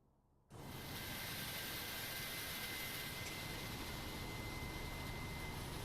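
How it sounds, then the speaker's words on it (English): Another plane taking off in Microsoft Flight Simulator 2020 brings a sudden, steady jet engine roar that starts abruptly and holds as a constant, fairly faint wash of noise. "There must have been another plane taken off."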